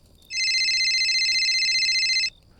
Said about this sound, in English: A phone was ringing, faint but unmistakable.